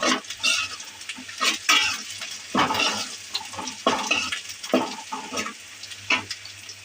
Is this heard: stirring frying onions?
yes